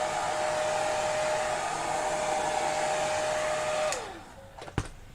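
A heat tool blows a steady, loud whooshing roar with a high whine while drying craft pages. It winds down near the end, and a brief clatter follows.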